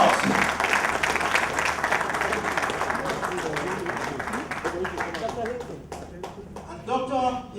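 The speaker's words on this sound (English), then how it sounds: "one round of applause" A round of applause from the audience at an annual lecture as a compendium book is unveiled, clapping that is strong at first and gradually thins, with voices and talking rising through it toward the end.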